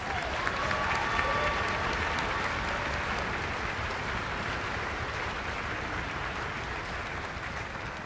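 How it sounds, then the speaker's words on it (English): Audience at a high school music festival concert gives a sustained round of applause, even and moderately distant, holding steady throughout. "So let's give Frank another round of applause."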